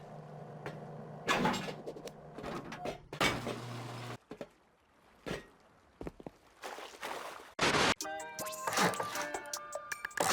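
Garage doors being placed in a Rust base: a series of loud metallic clunks and thuds, with short bursts separated by quieter gaps and a rattling, clattering stretch near the end.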